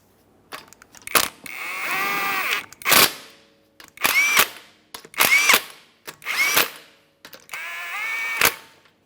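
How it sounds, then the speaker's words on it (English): A power tool on a 2015-2019 Subaru Outback tightens five 19mm wheel lug nuts in a series of sharp, close bursts, each a whirring zip ending in a hammering stop, separated by short silences. "we're going to tighten all 5 of our 19mm lug nuts"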